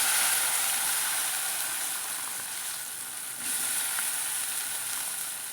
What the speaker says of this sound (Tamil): இந்த வெண்டைக்காயை வந்து அப்படியே அதில் சேர்த்துடலாம்.